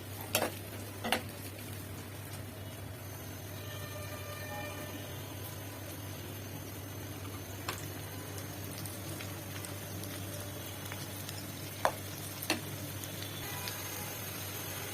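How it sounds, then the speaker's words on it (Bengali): Onion and garlic frying in mustard oil for a dried rupchanda fish curry, a steady soft sizzle over a constant low hum, broken by a few sharp clinks of a spatula against the pan. "পেঁয়াজ রসুন তেলের মধ্যে একটু ভাজা ভাজা করবো।"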